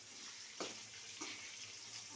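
Ivy gourd (tindora) pieces frying in a pan for a masala curry make a steady faint sizzle, with a couple of brief scraping stirs and no voices.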